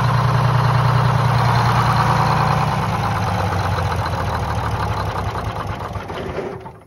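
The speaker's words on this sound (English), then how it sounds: "We can start it back here by pushing this button." A 1951 GMC bus engine with a blower, started from the rear compartment, runs loud and close with a steady low throb, its pitch stepping down slightly partway through as it settles into idle, then easing off at the end; no talking.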